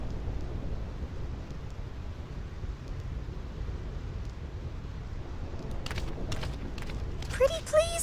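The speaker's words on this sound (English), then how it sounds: "This storm never stops." Steady rain and rumbling storm noise from a thunderstorm in the video game Final Fantasy X, continuous throughout, with brief sharp crackles and a short voice near the end.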